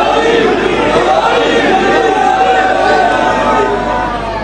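Dense, loud crowd chanting slogans together at a religious celebration for 11 Shaban, a continuous wall of massed voices with no pauses.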